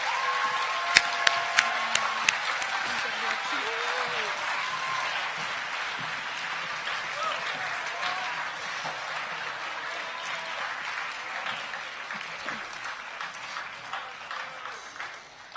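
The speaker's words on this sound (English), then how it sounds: "Please give another round of applause to the amazing panel of speakers." Audience at a school assembly gives the panel of speakers a sustained round of applause, a dense wash of clapping lasting about fifteen seconds, with a few sharp individual claps standing out near the start.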